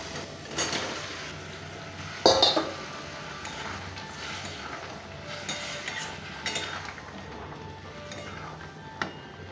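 Boiled potatoes tumble into a pan of tomato-based vegetarian aloo dum and get stirred, with a brief clattering thud near the start followed by soft, intermittent scraping and spoon stirring over a quiet kitchen background.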